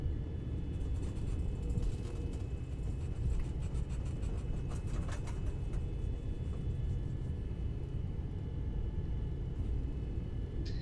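Airliner taxiing at idle thrust in X-Plane 11, a continuous low rumbling drone with a faint high whine, steady and unbroken.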